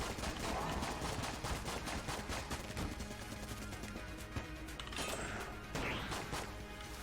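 Rapid gunfire from a weapon in the video game Enter the Gungeon, quick repeated shots in a fast rhythm, fairly faint amid game effects, with no talk over it.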